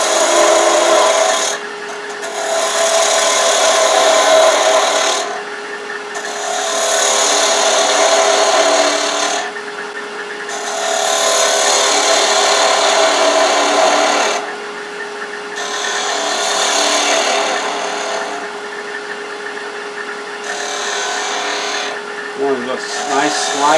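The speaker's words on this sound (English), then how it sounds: "I'm going to use this half inch spindle gouge. Start working on cutting the tip down." A half-inch spindle gouge cuts a wooden spin top on a lathe in repeated long passes of steady, raspy shaving, each lasting several seconds with short pauses between, alongside a constant motor hum.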